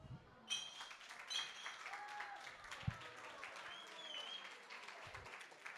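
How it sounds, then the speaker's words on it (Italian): Faint audience applause at a small stand-up comedy show, scattered hand clapping from a modest crowd with a few whistles and murmurs, fairly distant and low in level throughout. "grazie a voi degli applausi"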